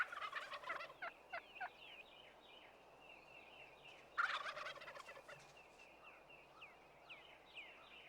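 Several wild turkey toms gobble in bursts at a strutting arena, some loud and near, others fainter, with rapid rattling calls breaking up a quiet outdoor background.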